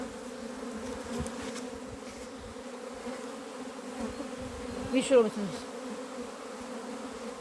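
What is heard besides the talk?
young honeybees on orientation flights at an apiary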